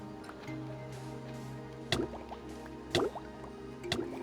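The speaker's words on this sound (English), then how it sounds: "There we go, some bubbles are popping up." Bubbles pop up through water in Minecraft as a few wet, plopping bursts about a second apart, over a quiet background hum.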